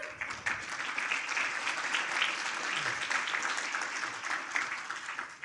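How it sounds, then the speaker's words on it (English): An audience at a fundraiser applauds, a dense, steady clatter of many hands clapping together throughout. "Give yourselves a big round of applause."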